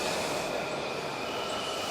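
A train running steadily throughout, a continuous loud rumble of rail cars with a sustained high whine, close by and with no talk over it.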